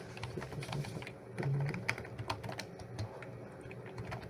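Router configuration commands are typed on a computer keyboard, a quick run of light, uneven key clicks heard up close and fairly quiet.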